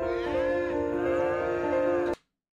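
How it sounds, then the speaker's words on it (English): Cows moo in a Farming Simulator 25 gameplay trailer, several overlapping sustained moos blending into a dense, loud chorus before cutting off abruptly to silence. "we see baby cows. We see full-grown cows."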